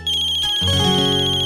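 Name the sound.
phone ringtone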